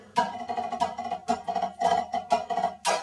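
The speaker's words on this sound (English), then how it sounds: "we have a tap roll, a drag, a flam drag" Crisp snare drum strokes in quick clusters, playing a tap roll, a drag and a flam drag in a steady pattern, close and fairly loud, without voices.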